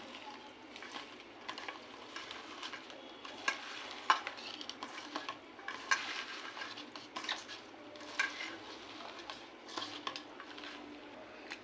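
Chopped water lily petals are squished and mixed by hand with chilli, black cumin, salt, turmeric and chilli powder, giving soft, wet squelching and rustling in an uneven rhythm, close and fairly quiet.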